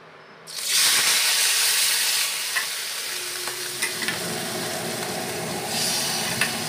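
Fish sizzling steadily in a hot pan in a home kitchen, a loud constant frying hiss that starts abruptly and carries on with small pops and crackles throughout.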